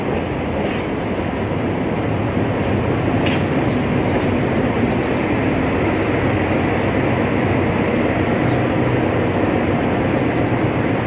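A Pacifico Railroad passenger train in Mexico rolls past with a business car at the rear, giving a steady, loud rumble of wheels and rail noise throughout with faint clicks.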